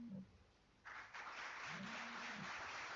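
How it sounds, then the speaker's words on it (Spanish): An audience at a forum on departmental autonomy breaks into applause for Dr. William Herrera, a steady patter of clapping that starts after a brief pause and continues under a voice. "el aplauso al doctor William Herrera"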